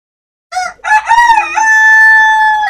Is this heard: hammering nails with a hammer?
no